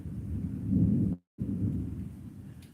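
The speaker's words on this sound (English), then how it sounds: "hear that thunder?" Thunder from a storm rumbles low and steady at moderate loudness, broken by one brief dropout before the rolling rumble resumes.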